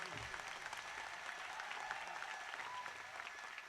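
An audience at a community gathering applauds with a steady, dense clapping that stays even throughout, heard from the middle of the crowd with no speech over it.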